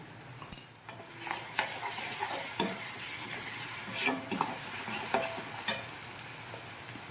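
Chopped onion and salt being stirred into hot oil in a frying pan while making a spicy samai aval kozhukattai, with steady sizzling and a few sharp scrapes and clinks of a spoon against the pan.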